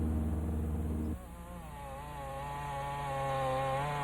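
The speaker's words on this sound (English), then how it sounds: "Chainsaws cutting swaths across the thick trees for pulp." Chainsaws cut through thick trees for pulp in Alaska's Tongass National Forest, a steady buzzing engine drone that starts loud, drops briefly, then settles into a sustained rising and falling whine.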